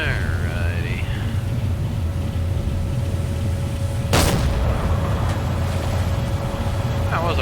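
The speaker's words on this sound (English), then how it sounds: "Just waiting for that explosion sound." A single heavy boom sounds midway through Silent Hunter IV submarine gameplay, a sudden explosion over steady background engine rumble and ambient game noise.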